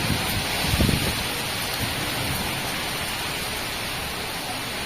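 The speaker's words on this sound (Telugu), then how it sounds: "వాన కూడా పడింది" Steady heavy rain pours down during a windstorm in a dense wash of noise, with a low rumble early on and no voices.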